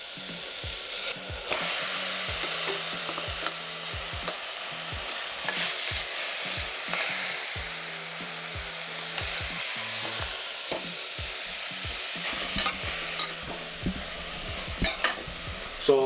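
Mutton pieces sizzle in hot oil with curry leaves and dried red chillies in a pan, a steady close frying hiss broken by repeated scrapes and clinks of stirring, with no talking.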